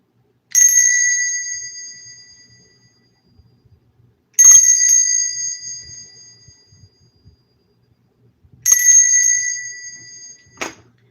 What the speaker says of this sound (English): I'm going to ring this bell 3 times